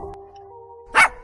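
Dog giving a single short sharp bark near the end, after a quiet stretch of faint steady tones.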